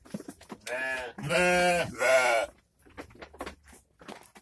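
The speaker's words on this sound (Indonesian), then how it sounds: "ini ada kambing dan domba Mas ya" Goats and sheep in a traditional livestock pen bleat loudly in a few long, wavering calls, followed by quieter shuffling and faint voices nearby.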